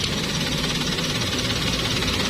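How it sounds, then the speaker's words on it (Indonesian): A 1000 cc three-cylinder engine idles in a Suzuki Karimun Wagon car, a loud, steady, slightly lumpy drone with vibration, close up and continuous, with no talking. "Jadi ini mobil 3 silinder. Jadi dia itu lebih getar."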